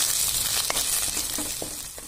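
Grated ginger and curry leaves fry in hot oil in a pan, giving a close, continuous sizzle with a few soft stirring knocks.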